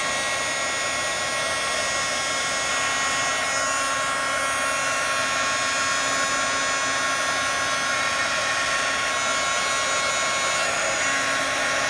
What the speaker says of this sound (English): My heat gun's pretty old.